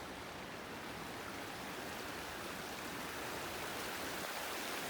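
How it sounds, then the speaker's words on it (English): Glacier-fed mountain stream in full raging torrent along a backcountry trail, a steady broadband roar of rushing water close by, continuous and unbroken with no voices. "Up there, it's a raging torrent."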